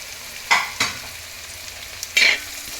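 Chopped beans and carrots being stir-fried in a pan, a low background sizzle broken by three distinct scraping sweeps of a spatula, close by and without speech.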